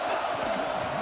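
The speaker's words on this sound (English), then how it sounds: "It's early, but this crowd is fired up." A loud stadium crowd roars steadily at a college football game early in a drive, a dense wall of cheering and shouting with no pauses.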